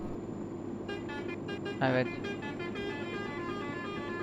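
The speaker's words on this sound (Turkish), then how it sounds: "En sevdiğim kornalardan birisi bu ya." Mercedes Axor truck horn in Euro Truck Simulator 2, a short honk sounding over a steady engine drone, with someone talking briefly beside it.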